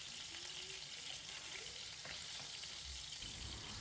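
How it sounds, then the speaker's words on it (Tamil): Sliced large onion sizzles steadily in the same pan used to fry fish, a soft continuous frying crackle with occasional stirring and no talking. "அதே பேனில் வந்து இன்னொரு பெரிய வெங்காயத்தை நீல வாக்கில் கட் பண்ணி அதையுமே வந்து லைட்டாக வதக்கி விட்டுட்டேன்"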